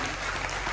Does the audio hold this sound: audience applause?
yes